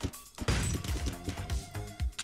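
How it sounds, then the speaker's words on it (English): Glass breaking in the Streets of Rogue video game comes as a cluster of sharp crashing smashes, several loud hits in quick succession with scattered debris between them, alone without talk. "Break glass."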